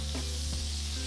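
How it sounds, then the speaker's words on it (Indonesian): Margarine melts and sizzles in a hot, seasoned wok, giving a steady, fairly quiet frying hiss with a low background hum and no voices. "Habis panasin woknya, kita masukkan margarin. Meleleh-leleh, berasap-asap."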